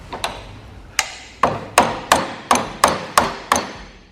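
About nine sharp metallic hammer blows strike a spanner on a stuck nut during a Scott Bonnar 20-inch Unicorn mower teardown, landing close and at a fairly regular rhythm of roughly one every half second.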